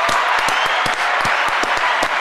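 Short burst of close clapping on a Dutch podcast, a handful of distinct sharp claps in an irregular rhythm over a steady background bed, fairly loud.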